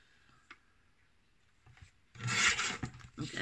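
A paper trimmer cuts a small rectangle of paper for a recycled-material scrapbook card, giving a faint rasping slide followed by a louder, drawn-out scraping cut near the end.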